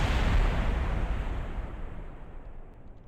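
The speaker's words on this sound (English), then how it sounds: "Oh, we've got explosions already." A large explosion in Kerbal Space Program gives a broad, heavy boom that fades into a rumbling roar over about three seconds, with no talk.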